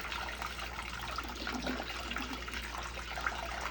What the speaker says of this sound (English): You can see the hose moving when it gurgles like that.